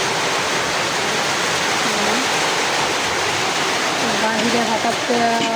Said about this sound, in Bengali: প্রচণ্ড বৃষ্টি শুরু হয়ে গেছে